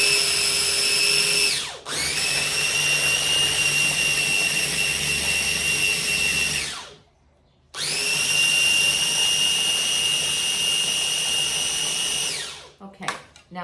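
A blender makes a loud motorized whirring that runs steadily for several seconds while blending vegan ranch dressing, cuts out briefly, then starts again at full power before stopping; high-pitched and close.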